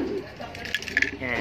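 Taiwan pigeons cooing in a breeding coop, a few soft coos rising over a low background hum with faint talk nearby.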